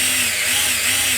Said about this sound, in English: grab our drill and 1/4 inch drill bit and drill through the center of the top arm of our tripod